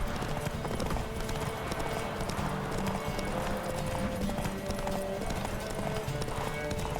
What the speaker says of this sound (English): Trying to win this horse race.